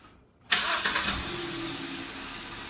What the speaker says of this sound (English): See, now the car has started.